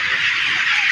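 Layer hens on a poultry farm squawk loudly and without a break at close range as they are caught for vaccination in daylight.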